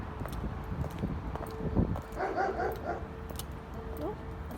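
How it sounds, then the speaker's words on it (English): A dog gives a few short yips and barks at moderate distance over steady background noise, with a faint voice nearby. "Oh, that's my dog."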